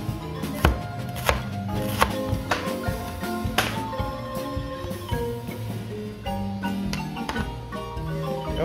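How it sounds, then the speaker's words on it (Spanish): Half a medium onion is chopped into small pieces for a tuna salad, a brisk run of close, sharp knife taps on a cutting board, irregular and steady throughout, with no talk. "La vamos a cortar en pequeños trozos así."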